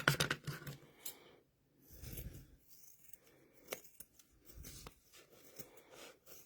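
Scissors snip through fabric for a carrot-shaped mug rug, giving a series of quiet, close crisp cuts and rustles with short pauses between them.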